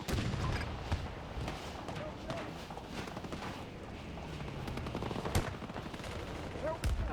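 Sniper gunfire in a video game cracks out as scattered sharp shots over a busy battle din, fairly quiet overall, with a player's voice talking over it.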